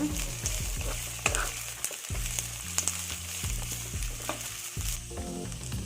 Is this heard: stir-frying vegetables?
yes